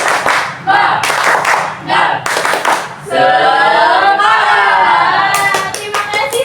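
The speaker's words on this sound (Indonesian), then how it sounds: "Tepuk semangat." Classroom group doing a rhythmic spirit clap, sharp bursts of many hands clapping in patterned sets, close and loud, separated by a teacher's voice and a short chant.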